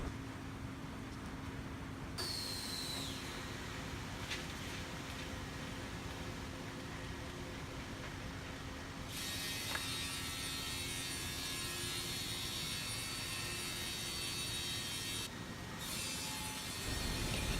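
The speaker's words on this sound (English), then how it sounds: "we will use this CNC machine to cut in the four edges of MGO board according to customers' requirement size" A CNC machine trims the four edges of magnesium oxide board on a production line, making a continuous rough grinding roar with some shifts in tone and a brief high scrape partway through.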